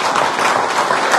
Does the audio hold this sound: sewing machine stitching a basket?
no